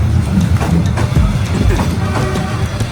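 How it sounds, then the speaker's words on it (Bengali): A train rumbles past very close in Hanoi, Vietnam, a loud continuous low roar with rhythmic wheel clatter filling the whole stretch. "এই যে একদম পাশ দিয়ে ট্রেন যাচ্ছে"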